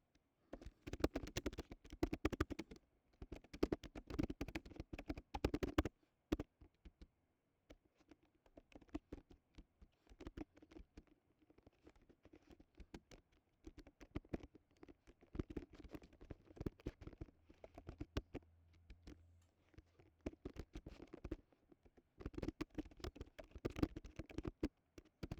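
Rapid bursts of typing on a computer keyboard, with clusters of sharp key taps and short pauses between phrases, fairly close but quiet, with no one speaking.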